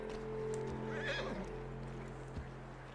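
A startled horse in Red Dead Redemption 2 gives a short, shrill neigh with a few hoof clops, close and fairly quiet over a steady low game hum.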